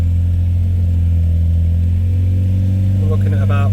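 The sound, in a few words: Volvo 940 engine revving to 3000 rpm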